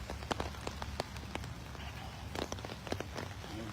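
Cold morning rain falling on old soldiers' gravestones in Harleigh Cemetery, a steady soft patter with scattered sharper drips landing close by, continuing without any voices.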